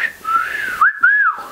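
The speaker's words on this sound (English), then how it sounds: "Would it be a cat call?" A person whistles a rising-and-falling cat-call, two clear tonal bursts close up, with no talking.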